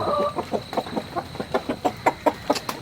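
Chickens cluck close by in a steady series of short, rhythmic calls, about a dozen clucks in quick succession with no talking.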